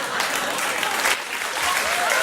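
Studio audience at a late-night talk show bursts into sustained, loud applause, dense clapping continuing throughout with a voice briefly audible near the end.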